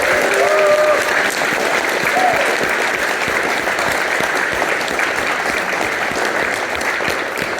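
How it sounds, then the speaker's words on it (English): An audience at a TFNation fan convention panel applauds Michael, a dense, sustained round of clapping with a few cheers and whoops, loud and continuous for several seconds. "Give Michael a big round of applause."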